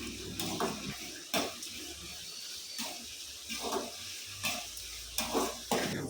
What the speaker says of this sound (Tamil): கட் பண்ணி வச்சுருக்க தக்காளி சேர்த்துக்கிறேன். சேர்த்துட்டு அவங்களையும் நல்லா மிக்ஸ் பண்ணிக்கிறேன்.